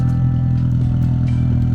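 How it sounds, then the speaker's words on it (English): Loud Subaru WRX engine running steadily at close range, a deep continuous rumble with a strong low-end drone and slight roughness, no talking over it. "give you guys just a small understanding of how loud this car is"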